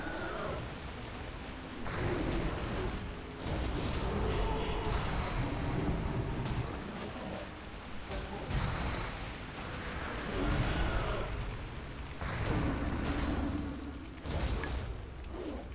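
Steady rain hiss in a World of Warcraft game setting, soft and continuous, swelling and easing in waves with low rumbles beneath.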